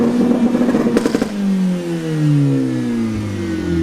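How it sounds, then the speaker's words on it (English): Edition 30 car engine held flat on the rev limiter, a loud bouncing roar with rapid stuttering cuts, then dropping away as revs fall and settle into a rumbling idle, close up. "if I hold my foot flat on this accelerator pedal, yeah, on the limiter, it just makes a load of racket"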